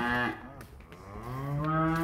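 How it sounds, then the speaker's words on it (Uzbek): Young bull calf, about eight or nine months old, on a cattle farm, giving a close, drawn-out moo, then a second rising moo after a short breath. "necha oylik bo'ldi bu buzoqchamiz 8-9 oylik"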